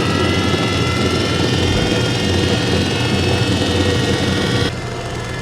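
A 95-year-old Kwik-Way grinder runs with its spindles and grinding wheel spinning, a steady, loud whining drone with layered tonal hum that drops off sharply near the end.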